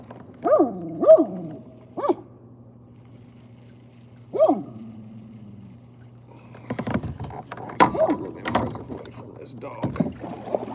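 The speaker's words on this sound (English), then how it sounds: "It's always a dog barking at you" Dog barking from the shore toward a kayak on cold open water, several sharp barks in the first seconds, then a busier stretch of water noise and knocks with more barking mixed in.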